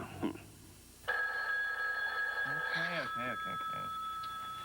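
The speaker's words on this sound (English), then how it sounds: "God, that phone." An old telephone bell rings loudly and steadily for several seconds, a sustained metallic trill with a voice speaking briefly over it near the end.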